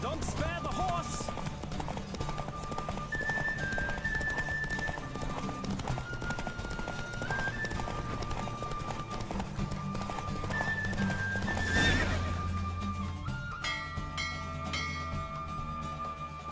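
Galloping hooves in a horse race in The Witcher 3, a steady clip-clop running throughout under music and game sounds, with a brief whoosh swelling midway.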